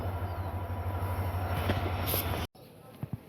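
The Kanchenjunga train stands at a platform at Agartala railway station, a steady low rumble that cuts off abruptly into quieter station ambience with a few faint knocks.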